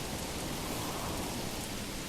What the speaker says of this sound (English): With the heavy rain coming down.